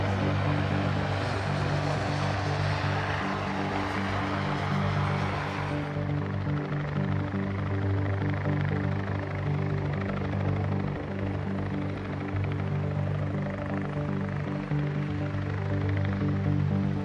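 A Bell 505 Jet Ranger X helicopter's rotor thumps and its turbine whines steadily, close and loud, continuous throughout with no voices.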